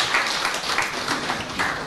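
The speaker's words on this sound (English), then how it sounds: "So give yourself a round of applause for that." Audience applause at a Girls in ICT closing ceremony fills the space, a dense wash of many hands clapping steadily at moderate loudness with no voices over it.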